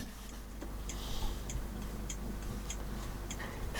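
An antique Louis XIV period clock ticks in a steady, regular rhythm, each crisp tick fairly faint against a low background hum, with no talk.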